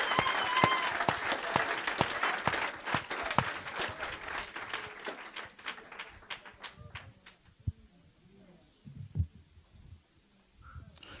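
Church congregation applauding and praising the Lord at a French-language sermon, a loud dense wash of clapping that thins out and fades toward the end, with scattered claps and faint voices left.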